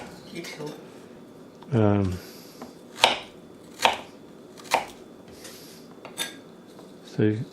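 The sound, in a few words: Japanese chef knife chopping old ginger on board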